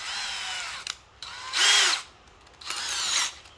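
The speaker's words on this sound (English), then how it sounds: "So once you've got your hole all drilled, I actually just power tap it with my drill." A power drill taps a thread into thin metal for an air ride setup, whining loudly in three separate bursts with short pauses between them, close up and with no talk.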